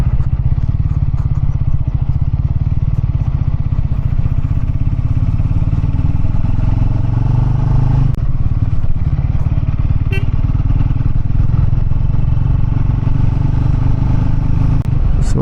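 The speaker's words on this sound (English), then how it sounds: "from then the exhaust sound was completely different" A Triumph Scrambler 400 X motorcycle engine rumbles loud and steady throughout with a deep, throaty exhaust note, plus occasional clatter and thumps, heard from up close.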